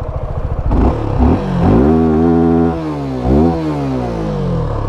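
A Suzuki V-Strom 250 adventure motorcycle engine cranks with a quick clattery starter, catches, and revs up in loud rising sweeps before settling into a throbbing idle, close and alone.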